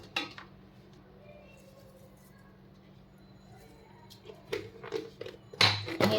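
A spoon clinks and scrapes against a pot while chicken marinade with coriander, oil and salt is mixed, quiet at first and then a burst of louder metallic clatter near the end.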